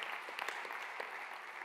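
Scattered applause from a conference audience for the speakers of a French lecture on ocean turbulence, moderately quiet and continuous with a few sharper claps.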